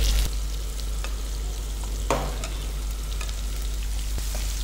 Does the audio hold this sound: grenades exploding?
no